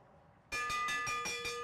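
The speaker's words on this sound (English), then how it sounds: "Here comes the bell." A bell rings out for the final lap of a nighttime bicycle race, loud bright strikes hammered rapidly about five times in a row after a quiet moment.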